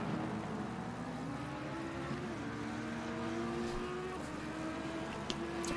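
A McLaren race car in a racing video game accelerates, its engine a faint, steady droning whine with slowly rising pitch, alongside other car engine tones in the background.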